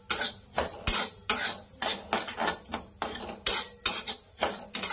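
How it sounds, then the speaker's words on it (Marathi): A spoon stirs and scrapes cumin seeds dry roasting in a hot kadhai, with rhythmic metallic clinks and scrapes repeating about twice a second, close and moderately loud. "इथं 1 चमचा जिरं घेतलेले। आता हे ना आपल्याला फक्त ड्राय रोस्ट करून घ्यायचे।"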